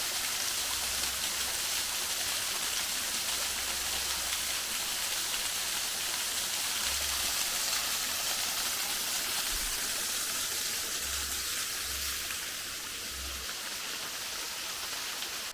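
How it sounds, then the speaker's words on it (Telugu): Small waterfall on the Z Point trek at Kemmangundi, a steady, even rush of falling water heard close, with occasional low bumps underneath and no talk. "ఒక చిన్న వాటర్ ఫాల్."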